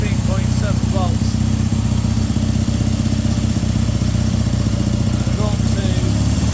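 A Triumph T140 motorcycle engine, fitted with a lithium iron phosphate battery, runs at a held 2000 RPM, giving a steady, loud, even low drone with a dense clattering texture and no change in pace.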